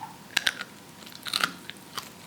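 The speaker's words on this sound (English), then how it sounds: "Can you hear that crunch?" Several sharp, close crunches from biting into and chewing a crispy chip, coming in a few quick bursts over about two seconds with quiet gaps between them.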